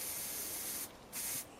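Spray bottle misting liquid down into a Honda Civic MK8 boot drain hole, a steady close hiss broken by a short pause, then another brief burst that stops.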